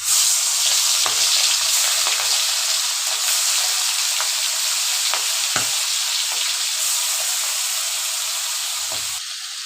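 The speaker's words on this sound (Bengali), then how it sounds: "এবার এইগুলো আমরা ফ্রাই করে নেব। অয়েলটা গরম করে নিয়েছি।" Marinated prawns fry in hot oil for a Bengali malai curry, giving a loud, close, continuous sizzle and crackle that holds steady for nearly ten seconds with no voices.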